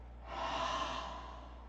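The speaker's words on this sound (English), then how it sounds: "then open mouth, exhale," A single slow exhale through an open mouth during a yoga flow, soft and breathy, swelling and then fading over about a second and a half.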